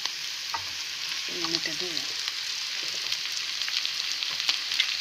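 Cabbage and other vegetables for Ilocano lumpiang gulay are stirred as they fry in a pan, giving a steady sizzle with light scraping and clattering of the utensil, and a brief spoken phrase early on.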